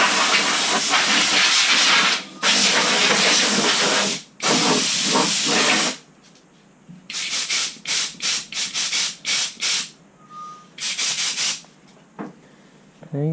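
Aerosol cans spray primer and satin black paint onto a repaired rust patch on a Ford Falcon door, first in long loud hissing bursts, then in a series of short rhythmic sprays, close by.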